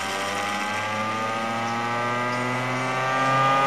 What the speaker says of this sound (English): So we'll let the motor get up to speed here.